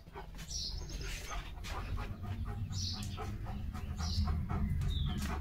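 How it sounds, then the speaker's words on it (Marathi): A house sparrow chirps repeatedly near a house while a dog plays nearby, bright short chirps recurring every second or so over a steady low hum. "चिमणीचा आणि लिओचा खेळ चाललाय"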